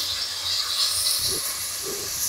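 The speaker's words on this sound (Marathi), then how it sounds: "आता बघा, टोमॅटो मी मस्तपैकी फ्राय करून घेतोय." Tomatoes frying in a pan while sambar is being prepared, a steady, close sizzling hiss that runs through the short stretch with no one talking.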